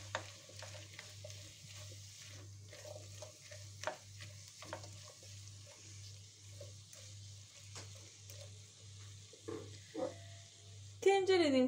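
Squash stirred and sizzling in a pot, with intermittent scraping and clinking of a utensil over a steady low hum and a brief louder clatter at the end.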